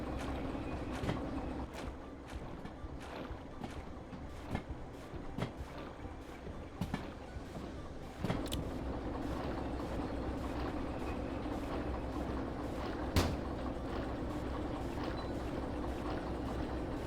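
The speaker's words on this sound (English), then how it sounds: "Just hearing the cylinder slosh with water." Video game steam locomotive: steady mechanical rumble with irregular sloshing and splashing water in a cylinder, punctuated by occasional sharp clanks, continuous throughout at moderate level.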